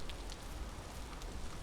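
Steady rain falls in Vintage Story as a soft, even hiss with scattered patters of drops, faint and continuous, with no voices over it.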